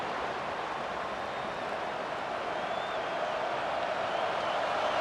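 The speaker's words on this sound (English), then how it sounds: "The roar of the crowd trying to fuel this defense to keep them pinned in their own end." Dense, steady roar of a stadium crowd during a Tennessee vs Oklahoma matchup in the College Football 25 video game, loud and continuous with a broad wash of cheering noise and no breaks.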